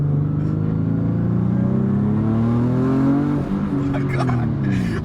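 A turbocharged Infiniti G37 coupe accelerates at half throttle, its engine note rising steadily and loud throughout, with a tonal shift and burst of higher hiss near the end as boost builds.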